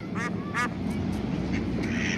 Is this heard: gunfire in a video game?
no